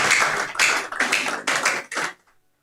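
Audience applause for a speaker at a success seminar, a loud burst of clapping in several close surges that stops abruptly after about two seconds.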